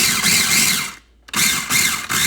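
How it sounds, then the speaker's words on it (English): A hand-cranked grinder grinds spices for an eggplant street-food dish with a loud, rough ratcheting crunch in repeated pulls, pausing briefly in the middle before resuming. "So, we're gonna grind them. Few pulls should be enough."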